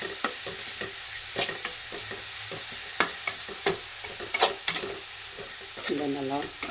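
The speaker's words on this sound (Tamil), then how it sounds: "இதை நல்லா கொஞ்சம் பச்சை வாசனை போகிற மாதிரி வதக்கிக்குவோம்" Grated carrot sautéing in a pan, a steady frying sizzle broken by repeated scraping stir strokes of a spoon against the pan, close and fairly loud.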